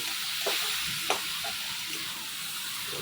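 Chicken giblets — stomach, liver, head and neck — stirred with a little water in a pan over the gas flame, a steady sizzle and hiss with scraping spoon strokes, one sharper clack near the middle, and no talking.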